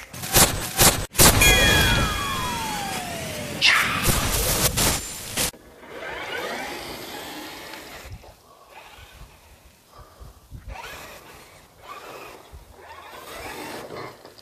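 A Traxxas TRX6 Ultimate RC hauler on a 3S battery runs in a garden, its electric motor whining up in pitch and rising sharply in bursts, near and loud at first, then fainter rustling and driving noise.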